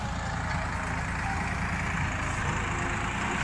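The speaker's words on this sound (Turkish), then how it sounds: "traktörümüz bir uzaklaşsın" A farm tractor pulls away with a steady, loud engine rumble and broadband noise that holds at an even level throughout, with no talk over it.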